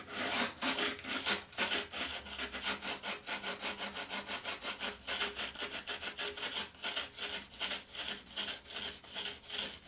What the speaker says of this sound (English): run your diamond along this burr until that noise becomes kind of smooth